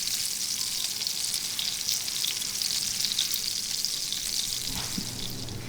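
Meatballs browning in a frying pan give a steady, fairly loud sizzle that runs unbroken the whole time, with a faint scrape toward the end and no voices.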